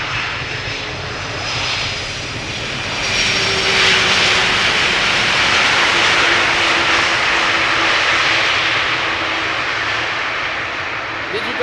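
An airliner landing at Amsterdam Schiphol Airport gives a loud, steady jet-engine roar that swells as it passes close by, with a faint whine over the rumble and a voice talking underneath.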